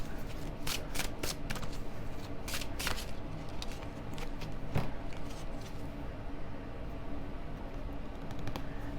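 Tarot cards are shuffled close up in a steady run of papery riffles and flicks, continuous and fairly loud over a constant background hum.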